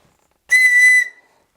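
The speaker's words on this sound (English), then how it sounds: "the next we have a signal whistle. And this is by the company BCB." Slim BCB signal whistle from a day-hiking survival kit gives one loud, shrill blast of about half a second, close up and alone, ending abruptly with a brief fade.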